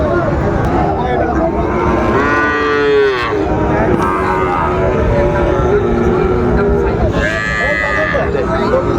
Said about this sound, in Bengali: শাহিওয়ালের মধ্যে একেবারে কোয়ালিটি সম্পন্ন